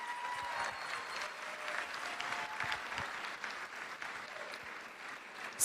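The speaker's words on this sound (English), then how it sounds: "Would you give Miranda a big round of applause," Audience at a Dancing with the San Angelo Stars 2020 event clapping in a steady, dense round of applause that holds evenly throughout and swells slightly at the very end.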